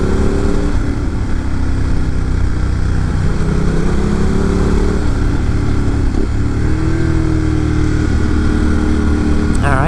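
A motorcycle engine accelerates hard out of a steep, blind downhill corner on a canyon road, a loud, steady, close roar with rising engine tones under constant wind rush.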